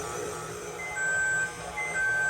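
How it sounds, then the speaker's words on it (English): A kitchen timer beeps in two faint, thin tones while a stand mixer kneads lemon roll dough at low speed, its steady hum running underneath. "There's our timer."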